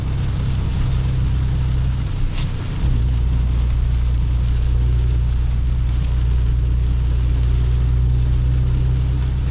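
Heavy rain drumming on a Ram 2500 pickup truck driving on a road, a dense steady roar over a low engine and road rumble, with no talking.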